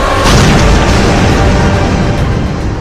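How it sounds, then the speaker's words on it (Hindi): Loud, sustained blast from a weapon warhead test, a deep broadband roar that rises sharply then rumbles on steadily for the whole stretch without fading out. "यहाँ होने वाले धमाके इसकी सिर्फ एक मिसाल है।"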